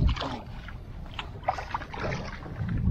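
A kayak paddles across open water, with soft, irregular splashes and swishes from the blade strokes mixed with wind buffeting the microphone, close and moderately loud, with no voices.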